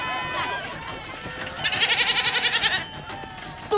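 A goat bleats loudly in a long, quavering, pulsing cry up close, with other voices and movement around it.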